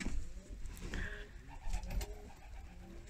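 Soft, low pigeon coos repeat a few times nearby, faint against a quiet background, from Akbaş Baska pigeons in a loft.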